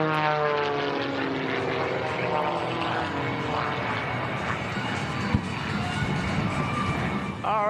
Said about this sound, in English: Hayden Prophet II firing up those 2 jet afterburning engines.